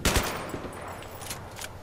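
A PKP Pecheneg machine gun firing in Battlefield 3, a loud burst of quick shots up front, then scattered softer cracks over a rumbling background.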